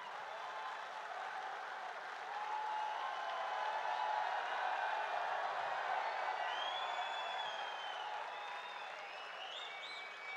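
An audience at an MLM friends meet gives a guest sustained applause, a steady, even wash of many hands clapping at moderate distance with faint crowd noise, continuing unbroken throughout.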